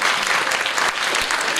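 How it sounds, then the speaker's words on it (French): Audience applause fills a conference hall at a YouTuber event in Toulouse, a dense, steady wash of clapping from many hands that runs throughout without a break. "On peut les applaudir s'il vous plaît"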